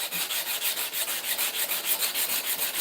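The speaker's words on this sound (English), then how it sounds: "Let's start hand sanding." A knife blade is hand sanded with rapid back-and-forth rubbing strokes in an even rhythm, close and steady, with no talking.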